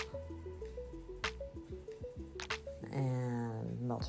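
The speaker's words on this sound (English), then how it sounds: "Now I'm gonna add buttermilk." Buttermilk pours into cake batter in a run of soft, rhythmic glugs and drips close up, then thickens into a fuller gurgling splash toward the end.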